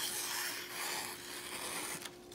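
A knife blade slices through recycled paper with a steady scratchy, rasping rustle, close up, ending with a brief sharper tear.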